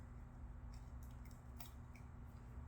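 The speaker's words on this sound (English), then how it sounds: "So I just have some curved scissors." Curved scissors snipping tape off a freshly sublimated, still-warm mug, giving a few short, crisp cuts over a steady low hum.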